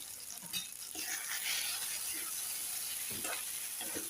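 Onion tomato chutney with chilli powder and coriander cooking in a pan over a gas flame; a soft, steady sizzle continues throughout, with faint scraping stirs near the end.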